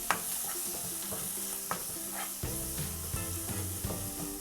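Chili powder sautéing for a smelt fish curry: a steady soft sizzle in the pan, broken by repeated scraping and stirring strokes of a utensil, close and fairly quiet, with no voices.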